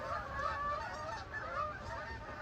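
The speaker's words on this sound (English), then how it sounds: "I don't know if you guys can hear the geese" Geese honking continuously at moderate distance, repeated nasal calls overlapping in an irregular chorus against a steady outdoor background.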